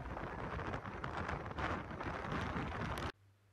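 Strong wind roars across a Hong Kong beach on a day of big waves with red flags up, a loud, continuous gusting rumble that buffets the microphone before cutting off abruptly near the end.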